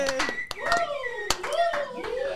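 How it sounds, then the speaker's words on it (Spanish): Podcast hosts clapping at an anniversary episode, a few sharp close hand claps scattered under lively talking voices. "Fuerte el aplauso, Pandemonio Podcast."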